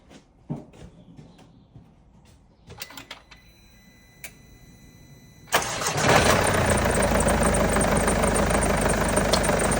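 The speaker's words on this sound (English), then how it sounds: "let's get the car started" A Mercedes B200d diesel engine cranks and catches, then settles into a loud, steady idle after a few seconds of clicks and quiet mechanical noises.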